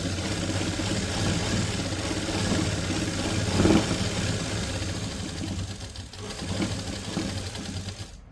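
An electric sewing machine runs steadily while stitching the seam of a simple suit (kurti), a continuous mechanical hum with a brief louder burst near the middle, then easing slightly.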